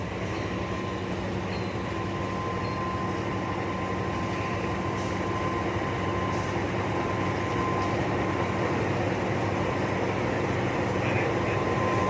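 Railway noise at Madiun station as a locomotive arriving from the Surabaya direction is coupled to train carriages, a steady loud rumble with a held tonal hum throughout, faint squeals near the end.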